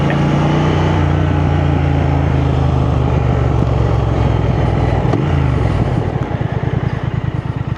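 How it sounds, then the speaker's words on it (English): Triumph Thruxton 1200 motorcycle engine running loud and close on the road, a steady rumbling drone that dips around a downshift, then rises into a quick throttle blip with a pulsing, chopped exhaust beat near the end. "Changing down is absolutely effortless. Just give it a quick blip."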